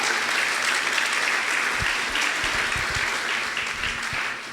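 A church congregation applauds during a Sunday morning service, with steady, dense clapping that fills the room for the whole stretch and eases off only slightly toward the end.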